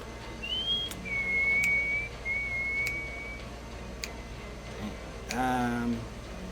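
A person whistles a few sustained, slightly sliding tones in a row, followed by a lower whistled pair, over quiet room background at a tabletop game session.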